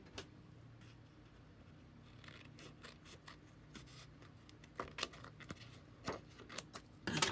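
Scissors trimming paper make faint, close, crisp snips and rustles, with quick cuts clustering toward the end.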